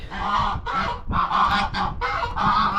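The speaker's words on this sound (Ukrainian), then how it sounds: "Тут, до речі, кури і тогорічні, які в мене вилупили з цуплята. І ось як вони кричать." A loud, close flock of geese honks repeatedly in rapid bursts, mixed with hens and last year's young chickens clucking and squawking underneath, continuous and noisy.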